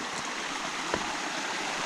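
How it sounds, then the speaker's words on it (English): A river stream flows at the second crossing on the Groeneweide Hiking Trail, giving a steady, soft rushing wash of water with no voices. "Get to the second crossing of the river here."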